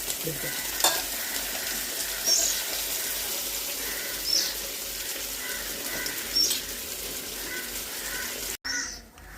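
Sardines fry in shallow oil in a covered pan, giving off a continuous close hiss and sizzle with a few brief louder spits and pops along the way, and no talking.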